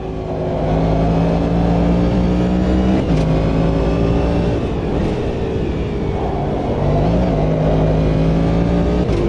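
Race car engine in Automobilista 2, loud and close as it revs and holds high, with pitch dropping at gear shifts and climbing again, continuous for the whole stretch.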